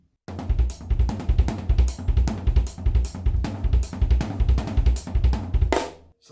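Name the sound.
Double kick paradiddle drum fill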